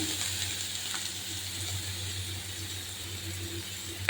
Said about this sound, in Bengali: একটু সামান্য পরিমাণে তেল দিয়ে দেবো এবার আমি চিংড়ি মাছগুলো দিয়ে দেবো লবণ হলুদ দেবো